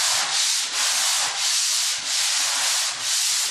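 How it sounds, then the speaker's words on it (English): Hand sanding of drywall over old wallpaper, a steady abrasive rasping that swells and fades in repeated up-and-down strokes, close and loud with no talking. "Go up and down the wall, make sure you push in every corner"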